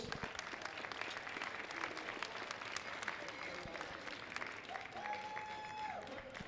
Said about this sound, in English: please join me in giving these amazing ladies a round of applause